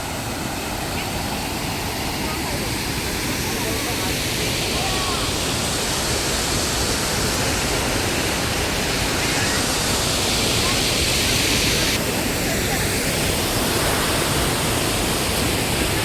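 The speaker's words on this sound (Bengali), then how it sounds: "এটা হচ্ছে ঘাগরা ওয়াটারফল। জলের স্রোত দেখতে পাচ্ছি, বর্ষার জন্য পুরো ভর্তি এখানে।" Ghagra waterfall in Belpahari, Jhargram, swollen with monsoon water, roaring as a loud, dense and unbroken rush of falling water close by for the whole stretch.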